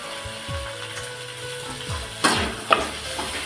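Capsicum and ginger fry in a pan for a green chilli chicken dish, a steady sizzle with a few louder clatters of stirring near the end, close and alone without talk.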